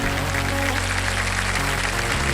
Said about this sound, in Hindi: तो चलिए जोरदार तालियों के साथ स्वागत कीजिए